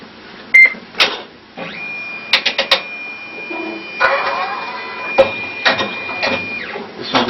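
A shirt printer runs through a short pocket logo print job, a steady mechanical whir with repeated sharp clacks and carriage shuttling, close and fairly loud, with voices talking in the room.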